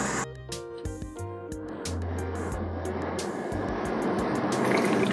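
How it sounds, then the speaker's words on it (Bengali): Soybean oil poured into a pan for deep frying, a continuous liquid pouring and filling sound that thickens and grows slightly louder over a few seconds, no talk over it. "সয়াবিন তেল দিয়ে নিলাম না?"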